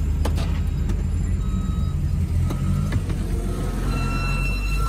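A 1993 Dodge Ram pickup truck with a manual stick shift accelerates, a loud, steady low engine rumble filling the scene with faint higher whines and clatter above it.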